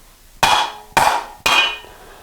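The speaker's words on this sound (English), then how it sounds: "to remove the steering stem, I use a plastic mallet." Three sharp, evenly spaced knocks of a plastic mallet driving the steering stem out of a 1983 BMW R80ST motorcycle, each hit ringing briefly before fading, close and loud with no talk.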